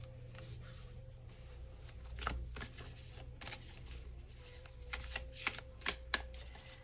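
Wild Offering Oracle cards are shuffled by hand, a steady papery riffle with sharper slaps building toward the end over a low hum, with no talking.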